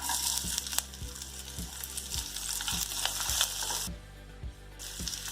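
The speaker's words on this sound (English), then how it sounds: "Saute the onion till it becomes translucent." Sliced onions and curry leaves sauté in hot oil with a steady sizzle, broken by regular scraping strokes of a spoon against the pan, close and clear, with a short quieter dip near the end; no one speaks.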